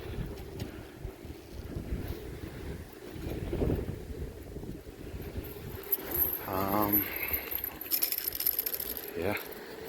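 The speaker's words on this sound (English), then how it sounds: "It's very windy, and this is the nicer part of it." Strong wind howls outdoors during a snowy blizzard, buffeting the microphone with continuous gusty roaring and occasional rattling knocks.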